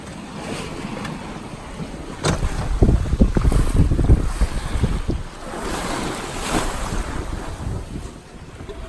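A sailboat under full sail at about 6.5 knots on the open ocean off Maui, with rushing wind buffeting the microphone and waves surging and splashing against the hull in uneven swells.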